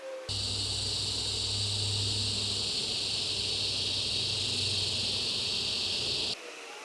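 Honeybees hum steadily at an open hive during a queen replacement, a continuous close-up buzz that stays even throughout before stopping suddenly at the end.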